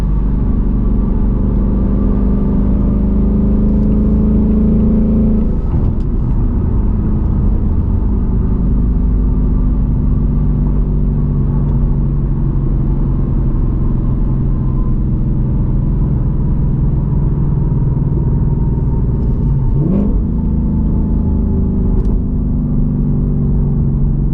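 A 2024 Ford Mustang GT engine drones steadily from inside the car while driving, with brief rev blips around downshifts breaking the constant low rumble.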